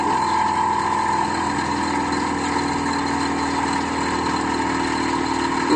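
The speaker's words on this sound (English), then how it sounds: "Perhaps I should slow the lathe down." A wood lathe spinning a bowl blank at 2500 RPM during bowl turning, a loud continuous motor whir with a steady tonal hum and no talking.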